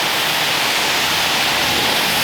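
Pressure washing a silver Bentley, a loud, constant close-up hiss of water spray without a break.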